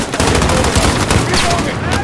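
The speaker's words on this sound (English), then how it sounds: "Shoot the wall!" Dense, loud gunfire from Call of Duty Modern Warfare during an embassy siege, with overlapping rifle bursts and machine-gun fire crackling continuously, close and relentless, under faint shouting voices.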